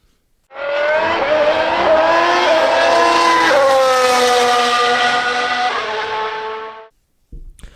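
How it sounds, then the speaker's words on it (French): Several race cars start and roar away together, a loud sustained blend of revving engines with rising and falling pitch, steady for about six seconds before cutting off abruptly. "mesdames et messieurs, démarrez vos moteurs."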